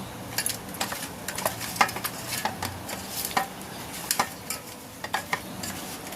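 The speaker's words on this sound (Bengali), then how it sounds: "এবার দিয়ে দিচ্ছি 1/2 চামচ নুন আর 1 চামচ হলুদ। এই সবগুলো ভালো করে মেখে নেব।" Raw bele fish being rubbed with salt and turmeric in a bowl, heard as a run of soft wet squelches and scattered light clinks of a utensil against the dish, steady and close, with no voices.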